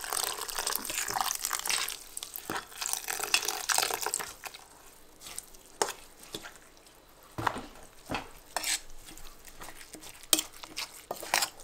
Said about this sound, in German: jetzt geben wir ein bisschen Wasser dazu, dass es ein bisschen feuchter wird.